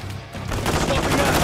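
Call of Duty gunfire in a snowy firefight, a sudden burst of rapid shots swelling loud and close after a brief quieter moment, with battle din filling the rest.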